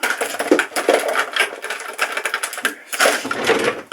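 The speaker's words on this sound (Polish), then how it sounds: "To jest grawerka akumulatorowa." A Parkside cordless engraving tool runs with a steady, close buzzing whine broken by small rhythmic pulses, pausing briefly near the end before starting again. No voices are heard.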